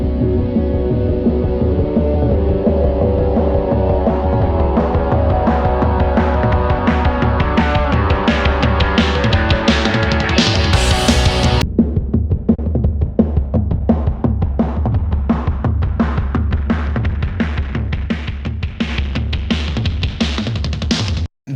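A music production track run through a heavy distortion effect plays continuously and loud, a dense, gritty pulsing mix that thins abruptly midway to a sparser, choppy rhythmic pattern with clipped highs cut off.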